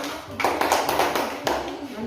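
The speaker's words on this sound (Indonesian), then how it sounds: "Tepuk tangan untuk kelompoknya Beruang Kutub" A primary-school class claps for a student group, a short burst of several loud, uneven hand claps close by, with children's voices mixed in.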